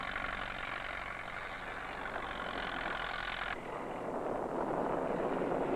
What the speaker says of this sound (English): Dad's driving home as fast as his tractor will run.